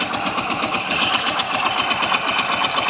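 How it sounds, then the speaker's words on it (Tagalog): A Yamaha Mio Soul i 125 scooter engine runs steadily up close, its idle carrying a rapid, repetitive knocking rattle from a worn connecting rod throughout, loud and unbroken. "Pag ganyan ang ingay mga kaibigan, connecting rod na yan."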